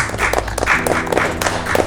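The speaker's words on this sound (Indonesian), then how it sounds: "tepuk tangan sama teman-teman" An audience breaks into applause during a community talk, with dense clapping bursts that pulse steadily for a couple of seconds and fill the room at moderate volume.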